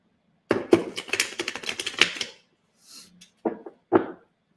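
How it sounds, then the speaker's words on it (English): A deck of playing cards being shuffled at a table for a spirit reading, giving a dense riffling burst of close flutter followed after a pause by two short, sharp card riffles. "Let me give her a good shuffle with the cards."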